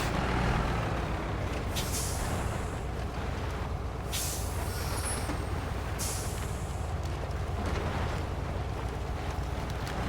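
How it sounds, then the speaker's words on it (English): Crane truck in the Snowrunner video game, with a steady engine rumble under three sharp hissing air brake releases spaced a couple of seconds apart, no talk. "we're using the crane truck and not just sending another scout down there to pull it out"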